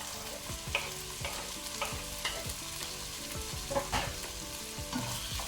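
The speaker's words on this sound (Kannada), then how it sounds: "ಈಗ 2 ಮೀಡಿಯಂ ಸೈಜ್ ಟೊಮ್ಯಾಟೊ ಹಾಕೊಳ್ತೇನೆ" Medium tomatoes fry in an oiled pan with chicken and spices, a steady sizzle underneath repeated close scraping strokes of a spatula stirring them, no voices.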